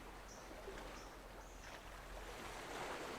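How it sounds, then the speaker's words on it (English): Gentle water lapping against a sandy shore, a soft continuous wash with faint bird chirps scattered above it, steady and calm throughout. "as you listen to the lapping of the water and the sound of birds."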